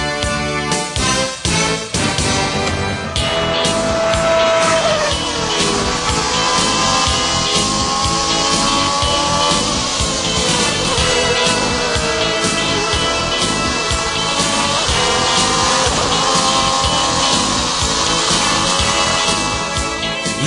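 The 1990 Ferrari Formula 1 car driven by Alain Prost roars continuously and loudly at close range, its engine pitch climbing and dropping through gear changes with no voices.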